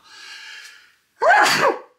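A single loud sneeze rings out after a brief breathy intake, close to the listener, with no talking.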